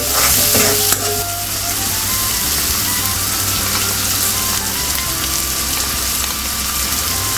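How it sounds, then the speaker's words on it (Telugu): Thinly sliced onions dropped into hot oil with fenugreek, mustard and cumin seeds, a steady loud sizzle with an initial splash burst and continuous crackling throughout. "పోపు గింజలు వేగిపోయాక మనం సన్నగా కట్ చేసి పెట్టుకున్న ఆనియన్స్ వేసేసుకుందాం"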